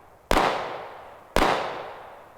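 Two sharp shots from a Staccato CS pistol fired at a range target, about a second apart, each a loud crack followed by a decaying echo.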